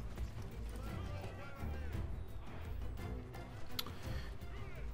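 Horse archer cavalry gallops across a desert battlefield in Rome: Total War, a quiet mass of drumming hooves and distant battle noise.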